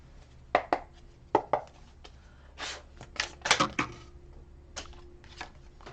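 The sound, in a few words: shuffling and drawing message cards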